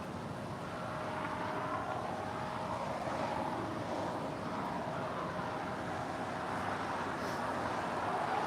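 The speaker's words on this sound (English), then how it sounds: "JetBlue Airways flight 2885 heading to Miami. It's an A321 now rolling down 25 right." A JetBlue Airways Airbus A321 bound for Miami rolls down runway 25 right at LAX for takeoff, a steady distant engine roar with a broad, even rumble that holds throughout.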